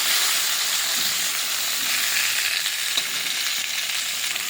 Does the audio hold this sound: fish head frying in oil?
yes